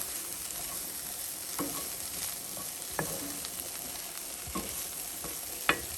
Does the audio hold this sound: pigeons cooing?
no